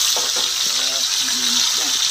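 Meat hits a hot pan for Filipino adobo and sizzles in a loud, continuous hissing wash of frying, steady and close throughout, with a few faint clinks and soft stirring scrapes underneath.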